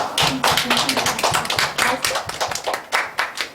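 A church congregation at a Sunday worship service claps loudly in a steady, even rhythm, the sharp claps landing in regular beats close by.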